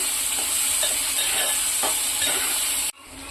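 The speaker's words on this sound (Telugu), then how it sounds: "చూడ్డానికి ఆయిల్తో కూర భలే ఉడుకుతుంది" Prawn curry cooks in oil with a loud, steady sizzle and bright hiss, broken by occasional stirring clatters, then cuts off abruptly near the end.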